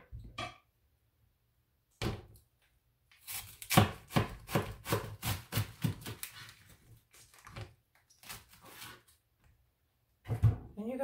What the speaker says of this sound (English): You want to cut the cabbage up